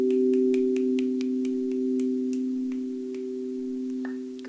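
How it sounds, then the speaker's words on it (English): Fingers snapping in a steady, quick rhythm over a sustained crystal singing bowl tone tuned to 432 Hertz during a guided meditation, the crisp snaps gradually thinning out and spacing apart. "Now begin to snap your fingers."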